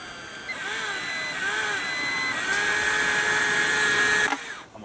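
A power drill whines steadily with pitch wobbling up and down, running close and loud for several seconds before cutting off.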